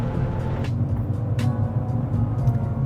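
Mazda Spec Miata race car pulling away from a race start in a Spec Miata series race, a steady loud engine drone with low rumble holding throughout, no talk.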